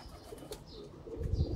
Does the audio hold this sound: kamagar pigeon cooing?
yes